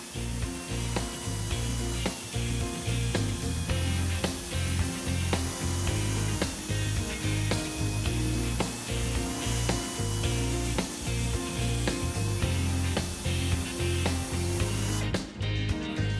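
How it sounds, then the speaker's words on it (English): A carbide cutter drills out an injury in a truck tire during a radial tire repair, a loud continuous grinding whir with steady rhythmic pulsing that runs unbroken throughout, no voices. "Proper drilling with the appropriate size carbide cutter ensures complete damage removal while preventing future injury growth"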